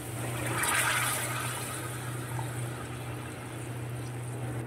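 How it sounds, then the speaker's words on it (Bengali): Hot water is poured into a pan of cooking masala, giving a steady rushing, gurgling pour that swells early and settles into a continuous wash with a low hum beneath it, and no voices. "এবারে আমি যে জল গরম করে রেখেছি সেই জলটা দিয়ে দেবো"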